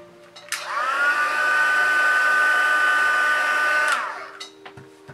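A heat tool used to heat-set paint blows a steady, loud whine with a rising start and a falling stop, running continuously for about three and a half seconds before clicking off.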